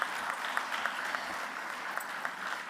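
An audience applauds the MC at a Kuchipudi dance event, a soft, steady patter of clapping heard from a distance.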